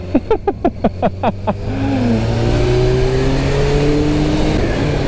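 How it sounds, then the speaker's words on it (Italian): A motorcycle with a throaty exhaust blips the throttle in about eight quick, evenly spaced revs, then settles into a sustained, steady engine drone nearby. "C'è un bello scarico però, suona parecchio bene questa pazzerina."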